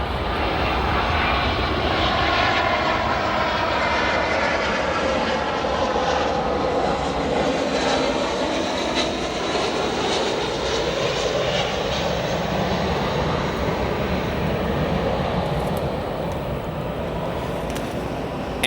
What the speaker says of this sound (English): We'll get this Airbus A320.